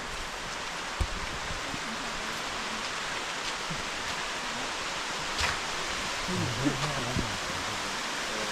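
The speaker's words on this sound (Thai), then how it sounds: "ฝนมาเยอะฝนเริ่มตก" Rain falling on a forest trail at Khao Yai forms a steady hiss of pattering drops. A few faint voices and brief sounds from people on the trail break in now and then.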